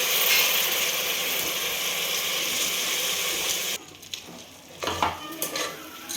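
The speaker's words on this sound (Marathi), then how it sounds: "याला तेलामध्ये दोन ते तीन मिनिट चांगलं परतून घ्यायचं" Soaked rice stir-frying in hot oil for Maharashtrian masale bhat, a steady loud sizzle that cuts off partway, followed by quieter scraping and stirring clinks in the pan; no one talks.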